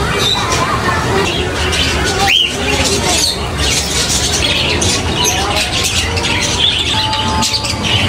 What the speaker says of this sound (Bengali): তার পাশে কতগুলো পাখি রয়েছে, পাখির খাঁচাগুলো বিশাল